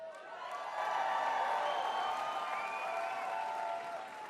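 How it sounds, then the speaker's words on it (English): A large Toronto crowd at a mayoral victory speech cheers and applauds in a sustained, distant-sounding wash of voices and clapping that swells and then eases slightly. "What a great Toronto crowd."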